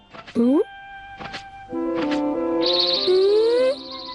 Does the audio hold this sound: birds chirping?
yes